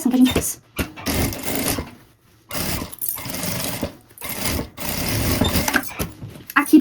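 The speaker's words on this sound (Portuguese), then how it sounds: "bota os grampos e passa a costura novamente em cima da marcação que a gente fez" A sewing machine stitches through a pouch made from a milk carton in several close, rapid bursts of whirring needle chatter separated by short pauses, with a voice talking at times.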